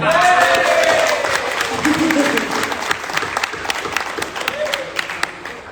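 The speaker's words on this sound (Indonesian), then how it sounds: "Tepuk tangan dulu dong" An audience claps at an Indonesian association's chair candidate debate, the dense applause mixed with cheering and voices at first, then thinning into scattered claps.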